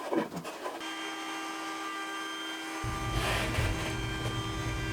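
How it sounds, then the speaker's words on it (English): An electric power tool hums steadily while it chamfers the edge of a wooden table top for a height-adjustable workbench. The tone holds a constant pitch, and partway through a deeper rumbling texture joins as the cutter bites. The sound is moderate and close, with no talk. "chamfer on the edge all the way around the top"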